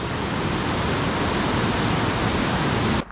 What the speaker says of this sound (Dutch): Het is geen grote waterval.